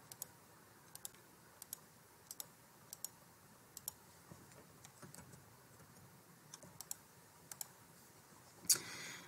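Computer mouse clicking while working in Photoshop, sharp close single and paired clicks spaced every second or so against a quiet room, ending in a brief louder rustle.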